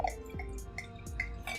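Nickel Brook Kentucky Bastard beer, a dark brew, is poured into a glass, giving a rapid series of liquid drips and glugs in an uneven rhythm, close and fairly quiet, with no talk.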